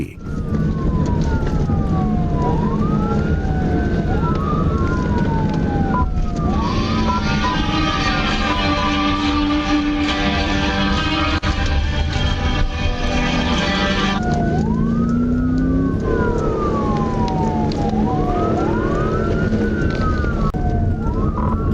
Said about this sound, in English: When the trooper turned on the lights and sirens